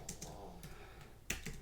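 Soft computer-keyboard typing while entering a git clone command, with a few quiet separate keystrokes and a sharper click near the end, close and faint.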